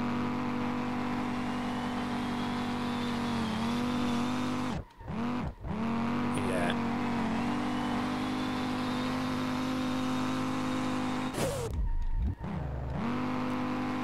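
Car engine revving steadily with tyre skid noise while drifting in the Street Legal Racing Redline video game, continuous and loud, with two brief drops near five and twelve seconds as the revs cut and climb again.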